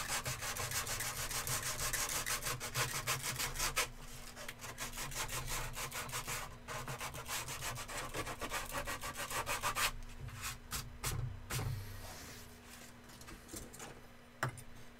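Rhythmic rasping strokes of a hand file working across wood, repeated back-and-forth scraping at a steady pace, close and fairly quiet, with a faint constant background hum.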